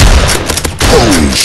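Gunshots from the blocky mobile shooter Block Gun: loud, close crackling reports over a dense battle din, with a brief dip in the noise before it resumes.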